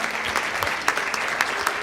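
A church congregation claps warmly for first-time visitors, a brief burst of dense, close applause from many hands.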